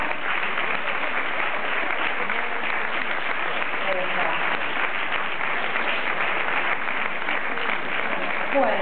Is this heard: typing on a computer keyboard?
no